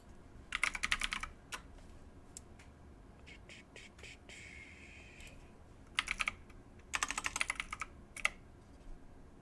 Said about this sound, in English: Excuse my extra clicky keyboard.